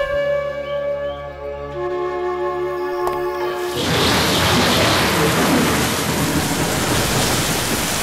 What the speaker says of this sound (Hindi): बहुत तेज बारिश हो रही है, जल्दी से घर लौटना पड़ेगा।